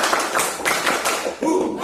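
Classroom children clapping through a counted clap chant, several brisk hand claps in a short rhythmic burst, with a voice calling out around them.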